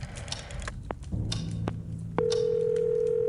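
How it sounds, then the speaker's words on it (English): Telephone in the game Scratches being dialed: a few short key tones, then a steady, loud dial or line tone that holds to the end, with faint background ambience and no talk. "so let's try and give him a call"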